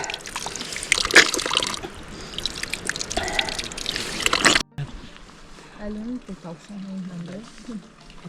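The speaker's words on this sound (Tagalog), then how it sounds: "spring water malamig ah, hanap ito" Cold mountain spring water flows on the Ambangeg Trail of Mt Pulag, a steady close rushing trickle for several seconds before it drops away and a voice talks over quieter background.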